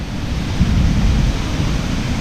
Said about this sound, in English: That's the waterfalls.